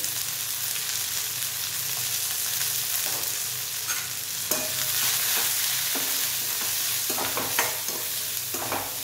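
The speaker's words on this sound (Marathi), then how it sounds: "व्यवस्थित भाजून घ्यायचं" Cluster beans fry in a pan with turmeric, chili powder and masala, giving a steady close sizzle broken by occasional stirring scrapes and clatters.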